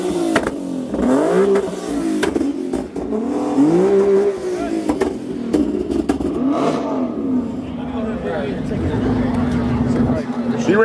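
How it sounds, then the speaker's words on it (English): A car revs hard in a rev-off at an underground car meet, its engine rising and falling in repeated bursts with shouting voices and crowd talk over it. "It's called a rev off, Ken."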